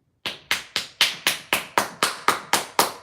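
About ten sharp, evenly spaced knocks imitate someone knocking on a door. They form a steady rhythmic series, close and clear, with no talk.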